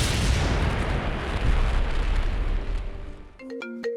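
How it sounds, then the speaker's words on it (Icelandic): Nearby wartime explosions and fighting make a heavy, rumbling roar of blasts that fills most of the stretch before it drops away abruptly into brief tonal sounds. "Eða þú heyrir í sprengingum eða bardögum bara rétt hjá þér."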